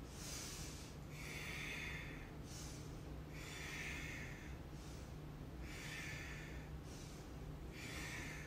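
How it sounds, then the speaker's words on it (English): Deep breathing during yoga, slow regular inhales and exhales repeating about four times, close and soft, without talk. "So let's take some deep breaths. Inhale, exhale."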